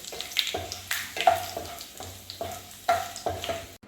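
Chili pieces frying in hot oil with mustard seeds, for a pickle, give soft sizzling punctuated by repeated stirring scrapes and light clinks, fairly close.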